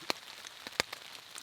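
Rain on a camping tarp in the backcountry, heard as a faint patter with a few sharp, distinct drops striking the fabric.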